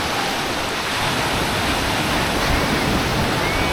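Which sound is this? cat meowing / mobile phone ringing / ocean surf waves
ocean surf waves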